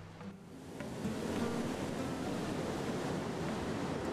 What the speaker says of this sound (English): When the surging seas of the Indian Ocean hit the limestone cliffs of Christmas Island, there's an explosive reaction.